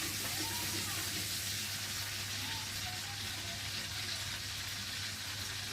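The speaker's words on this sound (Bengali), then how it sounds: "আলু দিয়ে, জিরেটা একটু ভেজে নেব" Potato and cumin fry in oil with a constant, fairly faint hiss and low steady hum, no distinct stirring.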